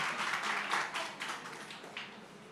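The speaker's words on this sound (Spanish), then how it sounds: "Un fuerte aplauso para ellas." Audience at a Teachers' Day event in Tierralta gives the teachers soft, scattered applause, fairly faint and distant, fading slightly over a few seconds.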